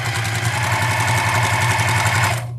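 A sewing machine stitches quilt blocks for a nine-patch quilt, a steady close whirring hum running nonstop for a couple of seconds before it cuts off.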